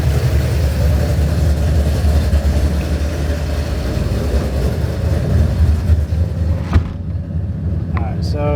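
A tuned car engine idles in park with a loud, steady low rumble that holds throughout, then drops away near the end, leaving a few sharp clicks.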